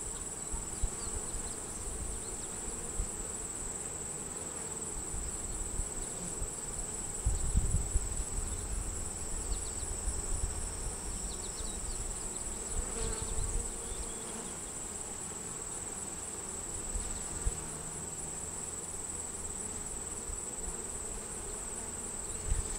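Honeybees buzzing steadily around an open 10-frame hive during an inspection, a dense continuous insect hum with a few low bumps and handling noises, no talking.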